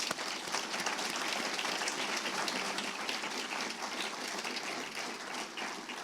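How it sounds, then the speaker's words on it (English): A crowd applauding award recipients at a reception, dense steady clapping from many hands filling a large room, continuous at an even level throughout. "give them a round of applause"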